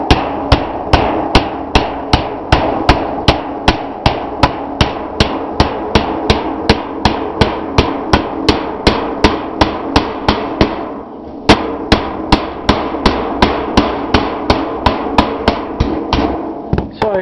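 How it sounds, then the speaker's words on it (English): A ball peen hammer bangs metal flat against a piece of 4x4 lumber for a utility trailer's sides, striking in a steady, rapid series of sharp metallic blows, loud and close, with one brief pause partway through. "ball peen hammer and I'll just bang it on a piece of 4x4 and get that nice and straight all along here"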